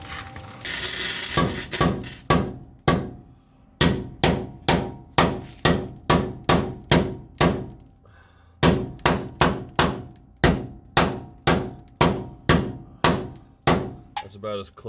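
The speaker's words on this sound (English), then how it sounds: "Okay, now go ahead and hammer it." Repeated heavy hammer blows strike a car frame near a welded support, a loud, rhythmic series of metallic clanks with a brief pause midway, close and without talk.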